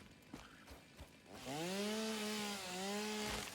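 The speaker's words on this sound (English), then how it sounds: "I think it's just great that the stuff that we're chopping down also fuels the chainsaw." A chainsaw felling trees in the video game Satisfactory starts up after a second of quiet soft clatter. It then holds a loud, steady droning buzz whose pitch dips and recovers as it cuts through the wood.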